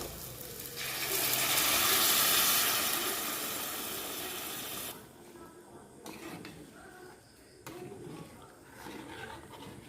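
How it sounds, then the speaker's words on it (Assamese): Hot water poured into a pan of fried taro root gives a loud, steady hiss that swells over the first few seconds and then fades into quieter bubbling and clatter. "এতিয়া মই পানী দি দিম।"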